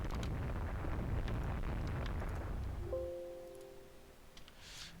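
A torpedo slams into a warship in the naval strategy game Rule The Waves 2: a deep, loud rumbling blast rolls on for about three seconds, then fades to quiet with a pair of thin steady tones.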